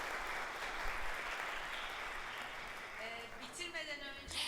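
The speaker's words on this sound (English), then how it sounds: "Let's give them a big, big, big round of applause." Steady crowd applause, moderately loud and sustained, with a voice starting to speak over it near the end.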